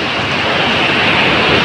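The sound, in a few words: small ocean waves at the beach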